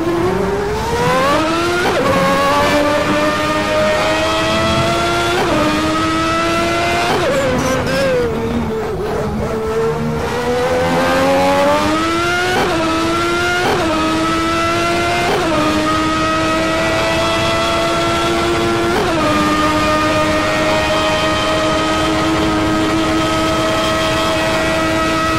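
A 1992 Formula 1 race car engine in a stock car racing video game, screaming loud and close as it climbs through the revs, with repeated sharp gear shifts and brief lifts over about twenty-five seconds.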